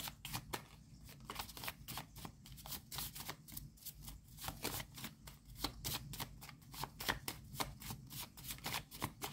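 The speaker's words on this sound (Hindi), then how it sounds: "एक और कार्ड लेंगे इस तरह से और फिर उसके बाद नेक्स्ट वाले डेक पे चलेंगे" A deck of tarot cards is shuffled and handled at close range, steady rapid riffling flicks repeating through the whole stretch at a soft, even level with no talk.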